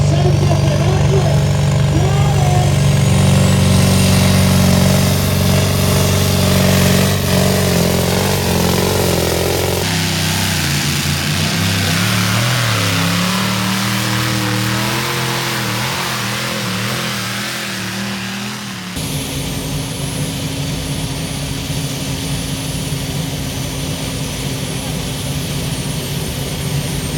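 At a tractor pull, a pulling tractor's engines start up in a long, loud sequence of droning, whining and revving tones, shifting in pitch as the engines are fired up one by one, with voices speaking over them.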